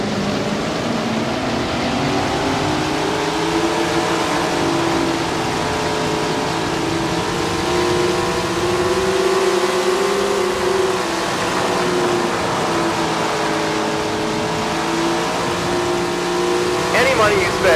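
Sprint car engines drone and rev together as a race gets under way in Tony Stewart's Sprint Car Racing, a loud continuous roar with shifting pitch throughout.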